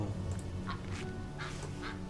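A duck in World of Warcraft's Dragonflight expansion giving a few short nasal quacks in quick succession over a low game background hum, with no voices.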